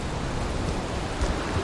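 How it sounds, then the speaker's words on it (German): Steady rain falls in the survival video game Valheim, a constant, even hiss of droplets with faint low rumbling underneath and no speech. "es regnet drum"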